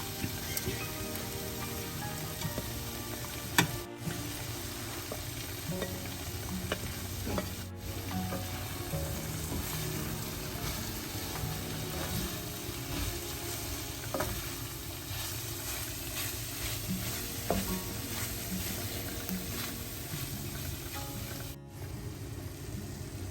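Paneer and capsicum stir-fry in a pan with a continuous crackling sizzle, like light rain, for over twenty seconds. Occasional clatters punctuate it and no one speaks.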